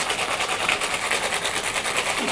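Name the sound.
cocktail being shaken in a shaker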